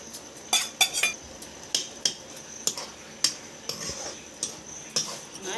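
Garlic paste added to cooking greens and stirred, a spoon clinking and scraping against a metal pot in a steady run of sharp metallic taps, close and fairly quiet, with a faint background hiss.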